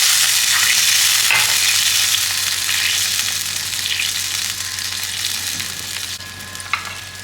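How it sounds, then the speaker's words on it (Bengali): Water poured into hot oil with fried mustard seeds for a katla fish curry, giving a loud, dense, continuous sizzle that slowly eases over several seconds, with a faint clink near the end and no talk. "সর্ষেটা ফুটছে, মানে ভাজা ভাজা হয়ে গেছে। এখন আমি জল দিয়ে"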